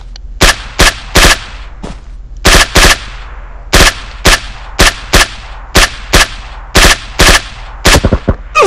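Gunfire in the mobile battle royale game PUBG Mobile: loud, close bursts of sharp shots in quick clusters, single cracks and short automatic volleys separated by brief pauses, with no talk over them.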